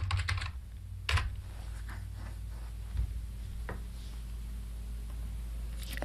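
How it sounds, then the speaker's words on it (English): Someone types on a computer keyboard, a few quiet, scattered key clicks with short pauses against a low steady hum, with no talking. "So now I'm going to type in report."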